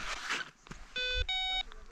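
An avalanche transceiver in search mode gives short, clear electronic beeps, two steady tones in quick succession after some rustling and a soft step, close and fairly quiet in a winter outdoor setting.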